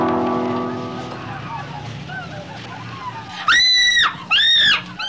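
A person in a 1967 film screams twice in two loud, shrill bursts near the end, after a stretch of quieter background noise.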